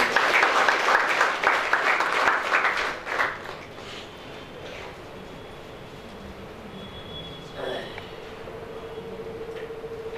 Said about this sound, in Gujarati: આપણે એના માટે એક જોરદાર તાળીઓ વગાડીએ